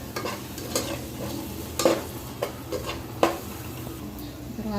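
Chili powder and cumin powder stirred in a frying pan while cooking mushroom rice: steady sizzling under repeated scraping and tapping of a spoon against the pan, close by.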